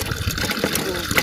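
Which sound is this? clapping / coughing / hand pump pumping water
hand pump pumping water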